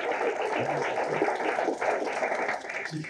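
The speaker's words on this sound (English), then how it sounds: "Let's give her some applause." Steady applause from an audience at a firewalking seminar, a dense wash of clapping that continues throughout without a break.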